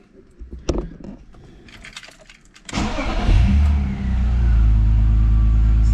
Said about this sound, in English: I'm just going to fire the car up actually to make sure I'm not in gear